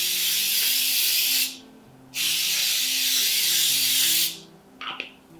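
Canola oil spray hisses onto baking sheets in two long, loud, steady bursts separated by a brief pause, followed by a short clatter.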